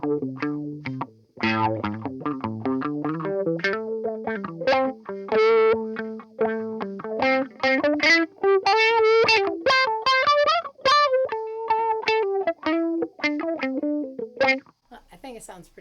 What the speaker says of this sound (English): I think it sounds pretty good with the wah